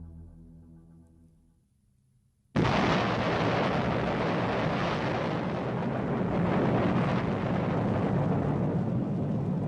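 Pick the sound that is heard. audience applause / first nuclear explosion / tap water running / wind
first nuclear explosion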